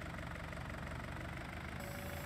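A tractor engine idles in Farming Simulator 19, a steady low rumble with a faint knocking texture that holds evenly throughout, with no talk over it.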